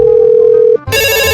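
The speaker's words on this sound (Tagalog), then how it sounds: "May tumatawag." A telephone rings loudly and close by, one long steady electronic tone that cuts off, then a second brighter, harsher ring burst begins right after, heard alone without talk.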